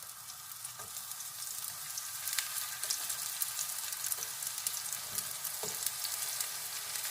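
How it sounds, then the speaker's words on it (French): Summer cep mushrooms go into a pan of olive oil heated very hot and fry with a continuous bright sizzle full of small crackles and pops, close and steady, with no talking. "Et maintenant, je vais mettre mes champignons dedans."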